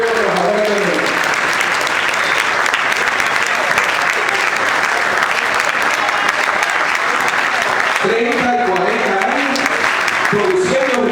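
Sustained loud applause fills a social movements meeting in honour of sugarcane workers, a constant dense clapping wash, with someone speaking over it at the start and again near the end.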